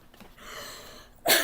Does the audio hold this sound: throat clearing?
yes